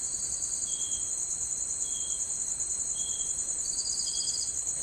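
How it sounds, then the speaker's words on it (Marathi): Crickets chirping at night after unseasonal rain in Konkan, a continuous high shrill trill with fainter intermittent chirps, steady and alone with no talk. "आणि रातकिड्यांचा आवाज,"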